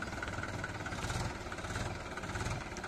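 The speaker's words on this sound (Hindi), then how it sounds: "सामने गया ट्रैक्टर" A Mahindra 575 tractor engine runs while hauling heavy logs, a steady low chugging drone, close and continuous with no voices.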